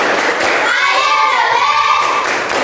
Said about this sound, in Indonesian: Semangat dulu lagi sekali. Tepuk semangat.